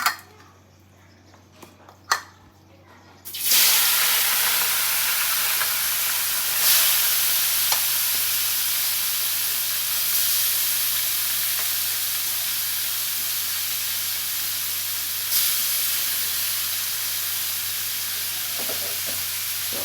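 River fish coated in turmeric and dried chilli powder drops into hot oil, setting off a loud, sudden, sustained sizzle that stays strong and close for many seconds. A few faint clicks come before it.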